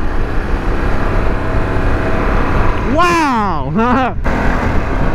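A 2021 Harley-Davidson Pan America motorcycle engine droning steadily while riding, a loud, continuous rumble with wind noise, as a rider exclaims briefly over it.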